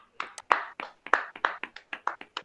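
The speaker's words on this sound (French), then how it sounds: "Est-ce qu'on peut apprécier l'homme de Dieu par des acclamations," A handful of separate, sharp hand claps sound close by in a church conference hall. They come in a loose, uneven rhythm with brief gaps between them and no steady crowd applause.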